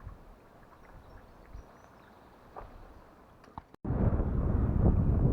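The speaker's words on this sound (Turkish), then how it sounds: "bugün rüzgar çok fazla" Steady rushing wind buffets the microphone, rising sharply into a loud, roaring gust after a brief dropout near the end.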